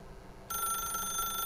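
A telephone starts ringing in the game The Stanley Parable, a bright electronic ring that begins abruptly and holds steady at moderate loudness.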